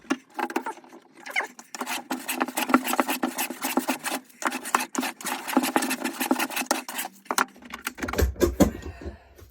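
Hand sanding of a wooden guitar top: quick, rhythmic back-and-forth scratchy strokes, close and steady, with a few brief pauses and a low bump near the end.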